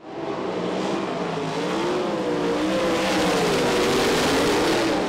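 USAC sprint cars roar around a dirt oval at a heat race, a dense, continuous engine drone with wavering pitch as several cars pass close together.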